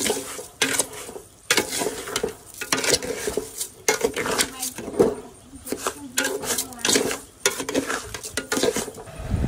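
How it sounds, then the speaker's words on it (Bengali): Rice is fried with browned onions in a pan for pulao while a utensil scrapes and clanks against the metal in repeated stirring strokes, with a soft sizzle underneath. "চালটা এখন খুব ভালো করে ভেজে নিব"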